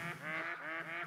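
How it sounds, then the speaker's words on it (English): Ducks quack in the hunting game The Hunter: Call of the Wild, a few nasal, rhythmic quacks repeated in quick succession, close and clear, with no talk. "I don't want to shoot the ducks."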